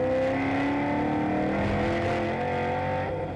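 Holden and Ford V8 Ute race cars roar around the Winton circuit, their engines loud and continuous with shifting pitch as they accelerate along the straights, with no talk over the sound.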